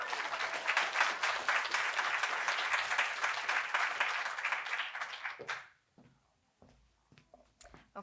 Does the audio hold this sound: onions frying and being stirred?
no